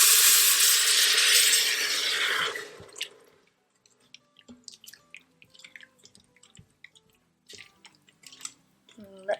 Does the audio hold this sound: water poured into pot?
yes